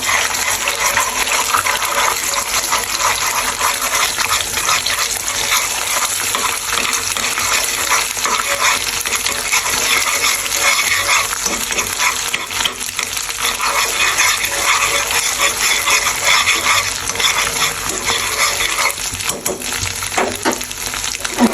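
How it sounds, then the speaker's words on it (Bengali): Egg scrambled and stirred in a frying pan with a spatula, a steady sizzling hiss and scraping running the whole time at close range, with no talk. "তো আমি এখন প্রথমে একটা ডিম দিয়ে দিচ্ছি তো এটাকে প্রথমে স্ক্যাম্বল করে নেবো"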